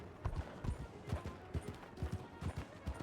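Horse hooves clip-clopping on a roleplay video game trail, an even run of close, crisp hoofbeats in a steady walking rhythm, heard alone without talk.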